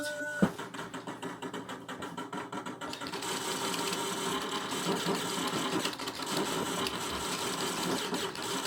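A train in a Wild West video game, a continuous mechanical clatter that swells into a dense, steady rush after a sharp knock near the start, loud and unbroken with no talk over it.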